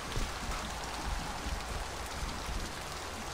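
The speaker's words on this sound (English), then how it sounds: "I hate this rain, though." Steady, dense rain falls in the video game Mass Effect 2, a continuous close hiss with no voices or other sounds.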